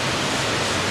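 A waterfall near a cave in Paramo, Colombia roars loudly and continuously up close, a dense, unbroken rush of falling water.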